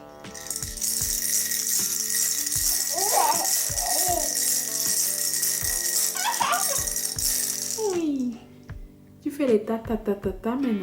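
Near, loud continuous rattling from a baby's toy being banged, with rhythmic low knocks throughout and someone talking softly in French over it before a brief pause near the end.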